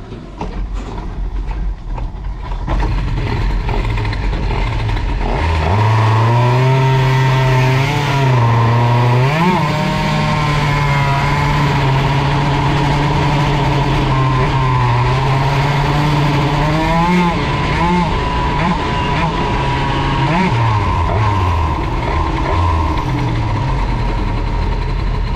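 A Bidalot RF 50 WR motorcycle engine with a freshly adjusted carburettor runs loud and close, climbing from idle into sustained revs that rise and dip several times, with no talking.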